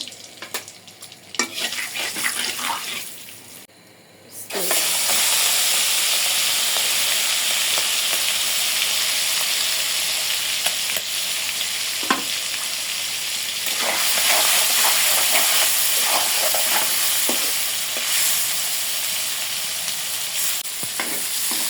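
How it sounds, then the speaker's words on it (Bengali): Prawns fry in hot oil with salt and turmeric, a loud, steady close-up sizzle and hiss that runs continuously, broken by occasional stirring scrapes and clinks, with no voices. "তেল দিয়ে দিলাম আগে মাছটা একটু ভাজিয়ে নিব সামান্য একটু লবণ আর একটু হলুদ দিয়ে দেবো চিংড়ি মাছ ভাজার জন্য"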